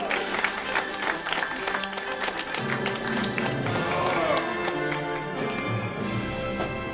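An audience at a live comedy show applauds steadily for about seven seconds, with cheering voices and a host talking over the clapping.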